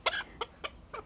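A small bantam hen in a coop, settling down to nest, gives four short clucks in quick uneven succession, close and fairly soft.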